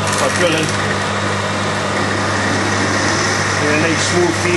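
A machine drills with a smooth Z-axis feed in a workshop, giving a steady loud mechanical whine and drone that runs throughout with no break.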